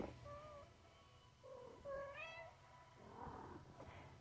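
A cat meows several times up close, in drawn-out rising and falling cries over a quiet indoor background, with no voices present.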